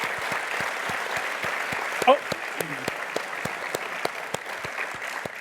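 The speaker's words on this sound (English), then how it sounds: "We should clap." Scattered applause for the coaches rises from an audience at a talk, sparse distinct claps ticking along at a moderate distance, with a brief vocal exclamation partway through.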